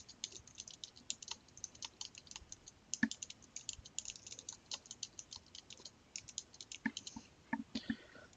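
Computer keyboard typing at a desk, a steady run of light, close key clicks in an uneven rhythm for several seconds as a file name is entered, with a couple of slightly heavier presses.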